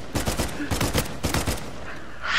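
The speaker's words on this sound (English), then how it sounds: "Three guys shooting at him." Bursts of overlapping gunfire from several players in an Uncharted 4 multiplayer match, volleys cracking in quick clusters for about two seconds with a brief pause between them.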